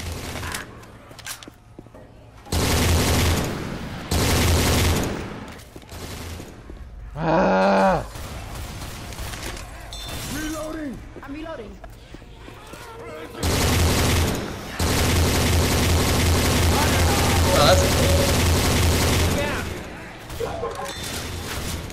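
Bursts of automatic gunfire in Left 4 Dead 2, loud sustained volleys of a few seconds each separated by quieter gaps of game ambience, with one sharp rapid rattle midway.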